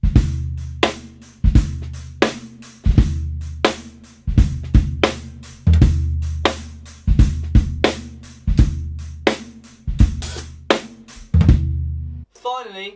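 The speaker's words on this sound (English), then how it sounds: "So over here I've got a ching ring on top of this hi-hat stack I've got going on over here." Ching ring mounted on a 16-inch hi-hat stack on a drum kit, struck in a steady rhythm of bright, jingly, trashy hits, each ringing briefly before the next, close and alone.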